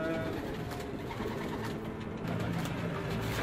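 Tip pigeons cooing inside a loft, a low murmuring chorus over steady background noise, continuous and fairly close.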